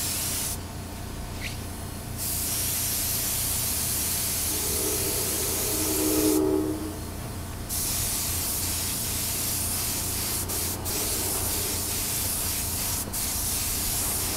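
An aerosol can sprays a white coat onto a Kawasaki wheel in steady, close hissing bursts, with a few short pauses between passes.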